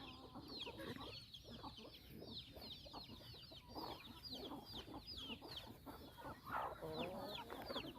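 A flock of farmyard chickens clucks busily and close by, with many short overlapping calls throughout.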